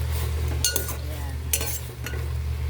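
Onions and tomatoes sizzle in a pan while being stirred, with a few scraping utensil strokes over a steady low background hum, close and moderately loud.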